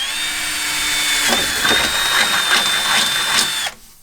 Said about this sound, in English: So I'll just drill a hole right over here.